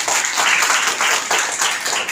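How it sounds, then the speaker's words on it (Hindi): Loud, steady crowd clapping at an e-waste awareness campaign event, a dense burst of applause from an audience honoring a woman guest. "मैम के लिए जोरदार तालियां।"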